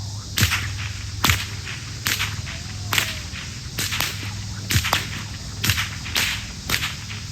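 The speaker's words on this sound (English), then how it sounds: "I want to do a little combo for you, the figure 8, the fast figure 8, with a little flick and a flash on the end." A stock whip cracks repeatedly in a figure 8 combo ending with a flick at a state fair show, sharp loud snaps in a steady rhythm roughly every second with soft whooshes between.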